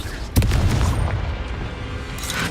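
A Confringo explosion spell goes off in Hogwarts Legacy with a sudden loud boom, followed by a rumbling, crackling decay that lasts for the rest of the moment.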